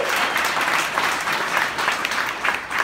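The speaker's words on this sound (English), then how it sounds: "You gotta give him a big round of applause for that." Steady applause from a jazz big band session audience for a student tenor saxophonist, dense clapping at a constant loud level throughout, with no gaps.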